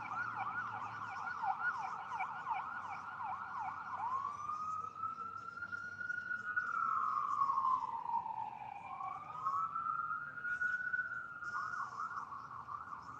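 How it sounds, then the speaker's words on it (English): An ambulance and a fire engine pass by with sirens wailing, starting with a rapid yelp and sliding into long rising and falling wails, steady and moderately loud against quiet surroundings. "An ambulance and a fire engine just went by."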